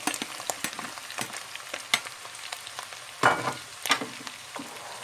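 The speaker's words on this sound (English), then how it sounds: "And just stir fry that just for a minute." Beans, meat and onions stir-fry in a pan with a steady close sizzle, punctuated by irregular scraping and clicking as the mixture is stirred.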